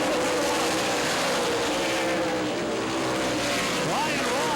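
Super late model race cars roar around the Baer Field Speedway oval as the field gets going, a dense, continuous engine drone with rising and falling passes, while a commentator talks over it.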